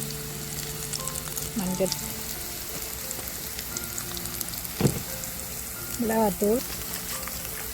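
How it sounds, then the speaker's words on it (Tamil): Ingredients sautéing in hot oil until golden, a steady soft sizzle running throughout under intermittent speech, with a few brief stirring knocks. "எல்லாம் நல்லா பொன்னிறமாக வர வரைக்கும் வதங்க விட்டுருக்கான்"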